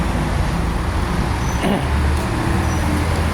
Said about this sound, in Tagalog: mga sasakyan na dumadaan. Kaya parang mas malakas pa yung sasakyan kaysa yung boses ko.